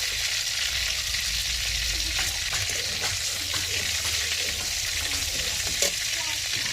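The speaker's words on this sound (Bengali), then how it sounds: "মাছগুলো আমার ভাজা হয়ে গেছে" Prawns frying in a pan of hot oil give a steady, dense sizzle that runs unbroken from start to finish at close range, with a few faint stirring knocks and no voices.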